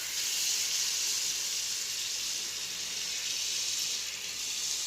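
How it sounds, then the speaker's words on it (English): Butter melts in a hot pan while broccoli almondine is cooked, giving a steady, fairly loud hissing sizzle that holds nearly level throughout, with no voices. "Our butter has begun to melt."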